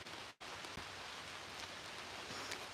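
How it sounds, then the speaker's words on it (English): A steady hiss of rain falls on the trees and grass of a churchyard, soft and continuous, with occasional heavier drops and a brief cut near the start. "This rain's starting to ease off."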